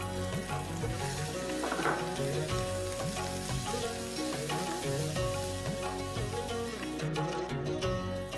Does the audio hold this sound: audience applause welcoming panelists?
no